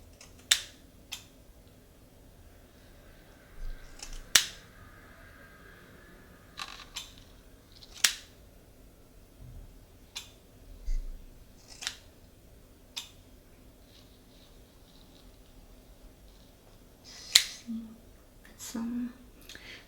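Scissors trim curly hair in a quiet salon, giving sparse, crisp close-up snips scattered over a soft, hushed background.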